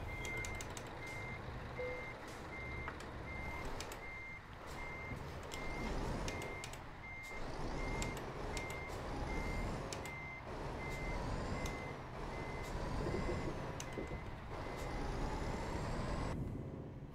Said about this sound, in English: this guy is sitting here with his backup beeper on for the fun of it.